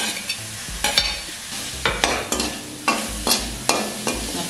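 Pointed gourd pieces being stirred with salt and turmeric in a hot pan: about ten quick scraping strokes over a continuous sizzle, close and clear, with nobody talking.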